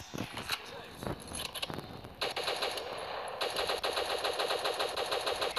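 Rapid automatic gunfire in the mobile shooter World War Heroes: scattered sharp shots give way to a sustained, dense burst of close machine-gun fire, with someone speaking over the early shots.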